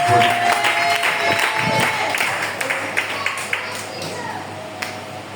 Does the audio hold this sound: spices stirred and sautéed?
no